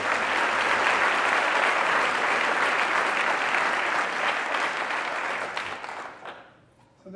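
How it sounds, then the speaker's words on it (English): A school audience at a state-of-the-school meeting breaks into loud, dense applause that holds steady for about six seconds, then thins and fades out near the end. "so let's give a round of applause"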